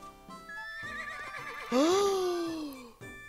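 Whinnying horse from the video game Miitopia: a wavering neigh builds up, then breaks into one loud, long descending call that tapers off before a short pause and a brief tone, with no speech.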